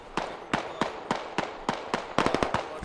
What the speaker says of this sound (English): Frag rockets being used to great effect